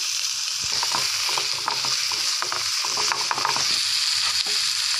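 Tomatoes with curry leaves and salt sauté in a hot pan for stuffed vegetable idly, a steady loud sizzle with frequent scraping stirs throughout and no talking.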